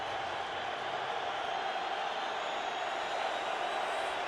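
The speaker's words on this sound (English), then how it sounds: "Arizona crowd getting loud." A large Arizona stadium crowd at a Cardinals–49ers NFL game roars in a steady, broad wash of noise, loud and sustained throughout without clear individual voices.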